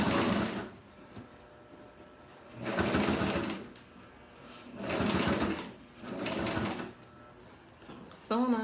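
A sewing machine stitches up a cozy bed pillow, running in about five close, loud bursts of rapid needle chatter separated by short pauses.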